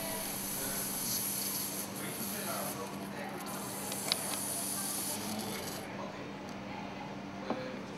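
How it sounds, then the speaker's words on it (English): Compressed air hisses steadily through the non-return valve of a MAN B&W MC marine engine exhaust valve during overhaul, a constant close hiss throughout with a couple of small clicks and a voice speaking over it. "Insert compressed air through the non-return valve to lift up the piston."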